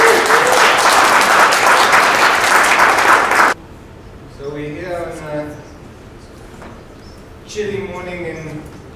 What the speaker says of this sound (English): Mr. Ivan, please give him a round of applause